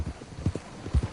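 Horse hooves clip-clop in a steady four-beat rhythm through a short stretch of video game play on PS4, the low thuds close and fairly loud with no talking over them.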